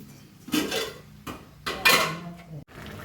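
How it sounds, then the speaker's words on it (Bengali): Boiled rice being strained in a kitchen, with loud metal pot and lid clanks and scrapes in several bursts alongside rushing, splashing water draining off. "এদিকে আমার ভাতটাও হয়ে গেছে এটাকে এবার ছেঁকে নেব এটাকে ভালো করে ছাকতে হবে জল যেন একদম না থাকে"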